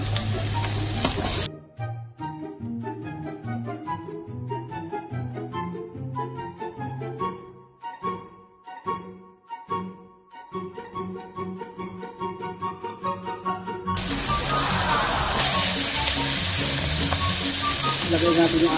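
Garlic and kikiam sauté in a pan for pancit bihon and canton. A brief sizzle opens, then music plays for a long stretch, and a loud, steady sizzle returns near the end.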